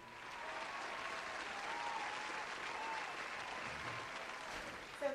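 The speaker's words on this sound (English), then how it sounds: "let's give a big hand of applause" A studio audience at a talk show claps steadily for about five seconds, a dense, even wash of applause that fades slightly near the end.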